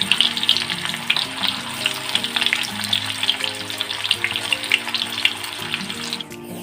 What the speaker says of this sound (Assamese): তেলটো গৰম হোৱাৰ লগে লগে মই দিম এতিয়া কাটি লোৱা পিঁয়াজ আৰু জলকীয়াখিনি